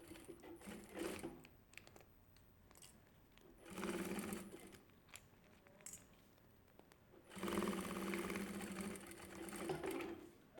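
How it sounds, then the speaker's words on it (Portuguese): A sewing machine stitches synthetic material for a mini backpack, running in three bursts of steady rapid needle chatter with quieter pauses between, close up and with no talking. "Agora a gente vai costurar."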